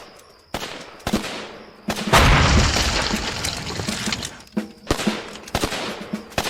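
A hand grenade goes off in a wartime action scene: a heavy, rumbling blast swells and lingers for a couple of seconds, set among sharp, gunshot-like cracks and bangs before and after.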